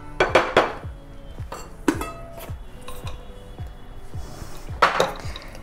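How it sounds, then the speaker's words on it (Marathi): Christmas cake batter with raisins and dried fruit is mixed in a bowl, a spoon knocking and clinking against the sides in irregular strokes, with several louder scraping bursts and ringing taps close by. "एकदा ते छान सगळं आपण असं मिक्स करून घेऊया."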